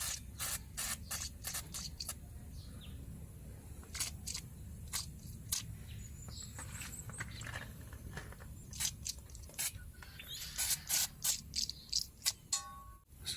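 Short bursts of anti-rust spray hiss onto a car's gearbox parts, sharp and close, scattered irregularly over a low background hum, with a quicker cluster of bursts toward the end.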